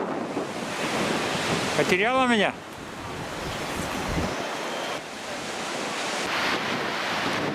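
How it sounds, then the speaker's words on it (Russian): Stormy winter sea at Gelendzhik, with waves rolling in under heavy wind buffeting the microphone; a steady roar runs throughout, a short warbling whistle cuts in near the middle, and a voice briefly speaks. "Море шумит, конечно. Волна идет хорошая такая."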